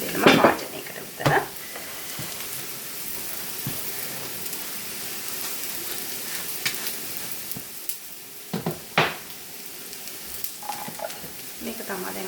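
Onion frying in a pan on the stove sizzles steadily and loudly up close, with occasional scrapes and clinks of stirring over the constant crackle.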